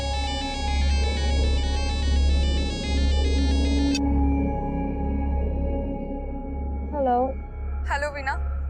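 Mobile phone ringtone for an incoming call in a Hindi crime drama scene, a bright repeating electronic melody that plays for about four seconds over a low background hum, followed by short voiced sounds.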